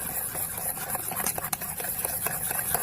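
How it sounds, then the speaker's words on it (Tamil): Flour being stirred a little at a time into eggs and sugar already beaten together, making palm fruit cake batter in a village kitchen. Steady scraping and sloshing strokes carry on without a break, close by, with no one talking. "அடுத்து மைதா மாவு சேர்த்துப்போம் கொஞ்சம் கொஞ்சமாக போட்டு நல்லா கலக்கிப்போம்"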